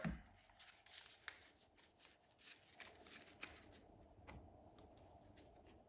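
A deck of trading cards being shuffled by hand, soft riffling and flicking clicks in quick irregular bursts, close and quiet, with no talking.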